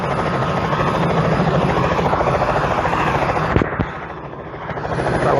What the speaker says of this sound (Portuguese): está um helicóptero aqui